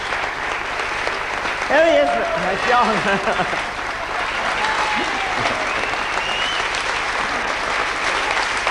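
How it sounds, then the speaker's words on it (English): Theatre audience applauding at an adult pantomime of Aladdin at the Pavilion Theatre in Brighton, steady clapping throughout with a voice speaking over it. "Let's have a round of applause"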